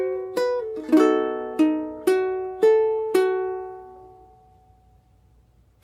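A ukulele picks one measure of a Latin ballad slowly fingerstyle, six clear plucked notes about half a second apart, each ringing and decaying, then a long fade, alone and close.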